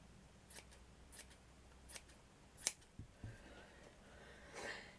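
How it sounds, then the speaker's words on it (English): Scissors snip a section off craft material for a scrap pumpkin project, making several short, quiet, crisp cuts spaced apart, close up with no talking. "I'm just going to cut this section off here because I don't like the holes"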